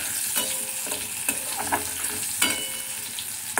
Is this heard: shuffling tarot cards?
no